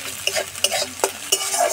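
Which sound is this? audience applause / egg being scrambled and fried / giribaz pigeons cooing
egg being scrambled and fried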